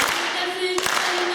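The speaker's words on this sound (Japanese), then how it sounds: "はい、そこから手拍子いきますよ" An audience at an evening concert claps along in a steady rhythm, several sharp beats landing in time at moderate volume, with faint voices underneath.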